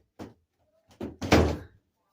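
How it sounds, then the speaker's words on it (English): A door slams shut with a couple of heavy thuds, loud and close, after a faint earlier knock, with no talk over it. "Oops, there's a door."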